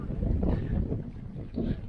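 Strong gusting wind of 25 knots gusting to 30 roars and buffets the microphone in uneven gusts, with a low rumble throughout and no clear voices.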